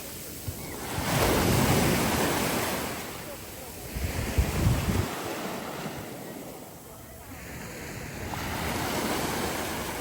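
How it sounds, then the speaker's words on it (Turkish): Waves wash and break along the shore in slow surges, with gusty wind buffeting the microphone throughout. "Denizde dalga yoktu. Bir anda dalga oluştu."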